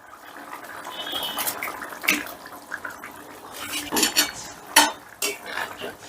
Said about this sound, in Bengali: এবারে দিয়ে দিচ্ছি ভেজে রাখা পনির।